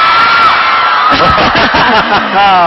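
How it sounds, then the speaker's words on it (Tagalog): A Philippine volleyball match between Philippine Army and Philippine Air Force, where a crowd cheers loudly at close range with whoops and shouts rising together, while a commentator talks over the roar. "The crowd enjoying this."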